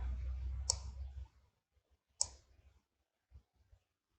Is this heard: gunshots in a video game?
no